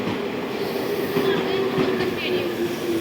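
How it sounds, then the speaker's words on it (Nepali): A train rolls into a station in Tokyo, Japan, with a low rumble and faint rail squeal, steady clatter underneath, while people's voices murmur nearby. "हाम्रो ट्रेन आयो"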